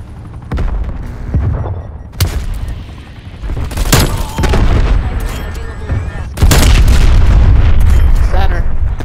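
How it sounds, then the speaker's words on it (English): Artillery explosions in a first-person shooter video game: several loud, deep booms strike at irregular intervals, the last one heaviest and followed by sustained rumbling, mixed with gunfire and talk. "Artillery targeting detected. Artillery inbound."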